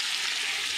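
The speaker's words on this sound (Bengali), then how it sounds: "ওলটা একটু তেলে ভাজা ভাজা মতো করবো।" Pieces of elephant foot yam fry in hot oil, giving a brief, even, close sizzle with a bright crackling hiss and no talking.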